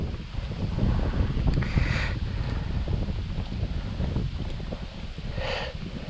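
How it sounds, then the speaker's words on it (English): Wind gusts over a small fishing boat on Middle Bolton Lake, a steady low rumble of wind noise on the microphone with faint water sounds and no voices. "We're getting picked up here a little bit by the wind."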